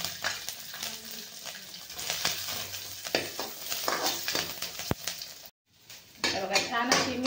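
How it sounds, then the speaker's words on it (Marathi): Green chillies sizzling and roasting in a little oil in a pan, with steady frying crackle, clinks of a spoon stirring against the pan, and a brief pause partway. "हे थोडंसं तेल टाकून आपण मिरची भाजून घेणार आहे।"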